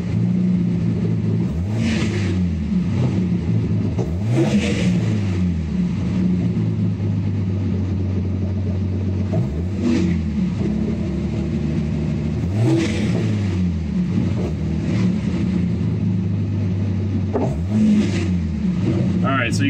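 A car engine revving in repeated blips as the gas pedal is tapped, each rev rising and falling in pitch over a steady idle, about six times at even intervals, under intermittent talk.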